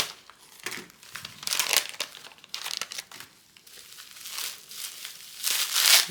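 Plastic wrapping on an Amazon parcel crinkles and crumples loudly up close in repeated bursts as it is torn open, with no voices.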